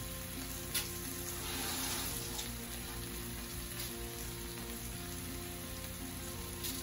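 Chicken leg pieces fry in a little oil in a pan, giving a steady close sizzle with soft crackling pops that holds evenly throughout, over a faint background hum and with no one talking.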